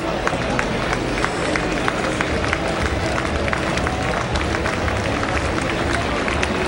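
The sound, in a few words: baseball crowd applause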